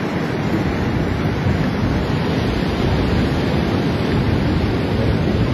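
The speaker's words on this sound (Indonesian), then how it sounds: "Bagus sih lautnya." Sea waves wash continuously onto a beach, a dense, steady roar of surf with wind rushing across the microphone, loud and unbroken throughout with no talking.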